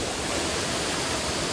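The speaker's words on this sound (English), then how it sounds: "Behind me, a freaking waterfall." Waterfall near the coast of Nice, a constant broadband rush of falling water, loud and steady throughout with no voices.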